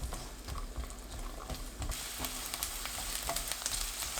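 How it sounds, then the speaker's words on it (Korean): Sliced garlic, about 60 g, fries in two tablespoons of olive oil in a pan over medium heat, a steady close sizzle with scattered crackles and pops that grows brighter partway through. "팬에 올리브유 2큰술, 마늘 60g 넣고 중불로 2분 볶습니다"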